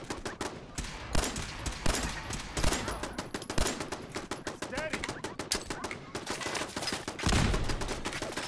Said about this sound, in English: Yeah, the turret's shooting it.